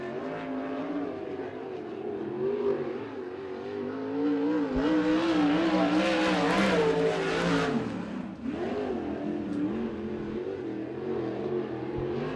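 A USAC/CRA sprint car at Tulare howls through a qualifying lap, engine pitch rising and falling as it drives the corners and straights at steady, loud volume with no clear talk over it.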